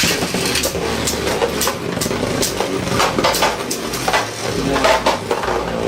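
Beyblade spinning tops, among them a Diabolos, clash in a stadium battle, giving a loud, continuous metallic whirring and grinding with rapid scraping collisions close up throughout.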